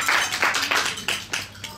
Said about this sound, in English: Clap, big clap for Joyce